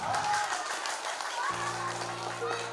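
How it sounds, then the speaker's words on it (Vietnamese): Wedding guests clap in a steady, moderately loud wash of applause while a voice talks over it and a low electronic hum sets in halfway. "Xin quý vị một tràng pháo tay thật lớn ạ."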